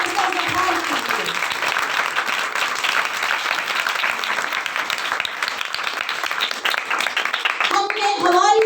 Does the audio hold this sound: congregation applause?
yes